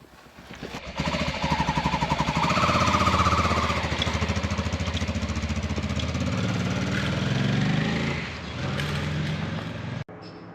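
A Honda Transalp motorcycle engine, freshly rebuilt with new cylinders and heads, runs steadily at close range with a fast, even pulsing throb that dips briefly near the end.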